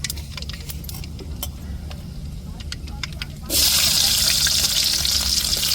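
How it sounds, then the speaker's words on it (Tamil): Mustard seeds splutter in hot oil in a pan while fish puttu is being made. Sharp scattered pops come first, then a sudden loud, steady sizzling hiss takes over partway through. "இப்போ கடுகு சேர்த்துக்கிறோம் நல்லா பொரியட்டும் கடுகு"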